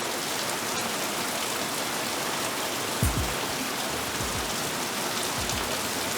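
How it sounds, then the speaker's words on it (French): Heavy rain falls outside a veranda in a constant close wash of drops on surfaces, with a few low thumps partway through and no one speaking. "Je voulais vous faire écouter la pluie."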